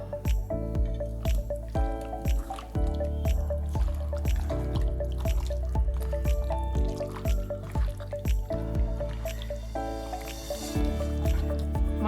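Chicken being mixed by hand with masala marinade for pot biryani, giving repeated wet squishes and squelches at a steady pace, close up, over constant background music.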